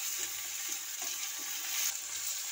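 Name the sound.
garlic and ginger paste frying with tomato in pan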